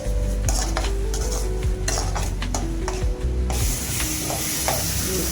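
Tomatoes with rock salt and turmeric fry in oil with a loud, dense sizzle, while a spatula scrapes and clinks against the pan in quick strokes. No one speaks.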